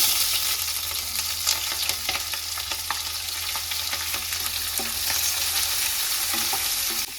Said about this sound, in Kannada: ಇವಾಗ ಅದೇ ಎಣ್ಣೆ ಒಳಗಡೆ ನಾನು ಈರುಳ್ಳಿ ಮತ್ತು ಮೆಣಸಿನ್ಕಾಯಿನ ಹಾಕೊಳ್ತಾ ಇದ್ದೀನಿ